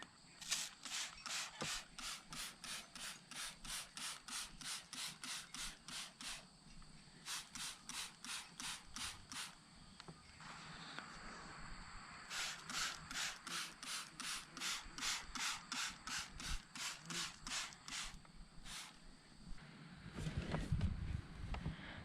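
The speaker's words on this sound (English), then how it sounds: "So let's go ahead and start spraying it." Rapid, repeated spray bottle squirts of mildew remover come in quick runs separated by brief pauses, crisp and close.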